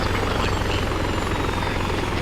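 Steady, close rotor and engine drone of a helicopter in the ArmA 3 video game, holding at constant loudness throughout with no talk over it.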